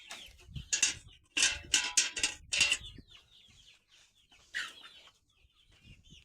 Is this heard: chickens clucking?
yes